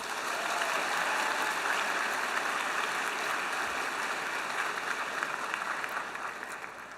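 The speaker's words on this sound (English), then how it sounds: "Round of applause." A large audience at a student Model UN conference opening ceremony breaks into a round of applause, steady and dense throughout, easing off slightly at the very end.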